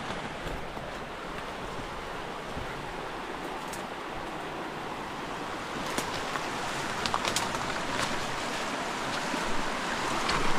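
Steady rushing water of a river in a forest, continuous broadband wash close to the microphone with occasional splashes and gurgles growing slightly louder toward the end; no one speaks.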